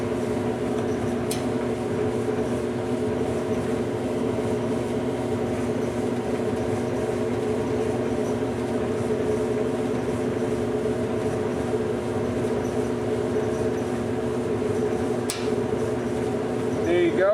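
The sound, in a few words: gas clothes dryer started back up and running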